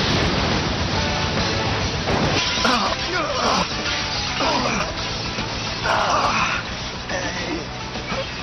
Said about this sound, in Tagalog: Water Dragon Blast Technique!